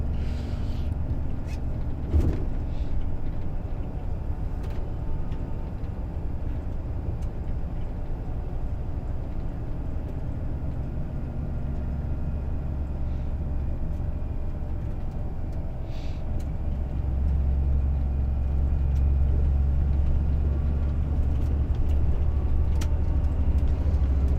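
A car drives steadily along Krakowska street toward the city centre during a driving lesson, a continuous low engine and road rumble heard from inside the cabin with no talking.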